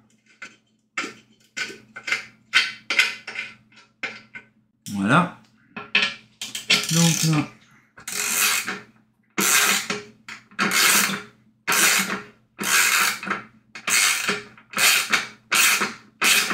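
A bolt on a PROJELUX lantern light fitting being unscrewed by hand, giving loud, close, repeated metallic ratcheting and squeaking bursts in a rough rhythm, with someone speaking briefly between turns.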